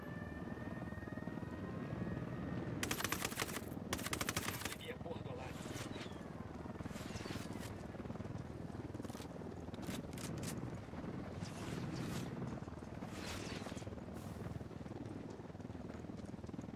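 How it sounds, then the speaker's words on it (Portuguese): Steady rotor drone of a helicopter in the video game Ghost Recon Wildlands, continuous throughout, with brief bursts of harsh broadband noise and some talk mixed in underneath. "Peguei helicóptero."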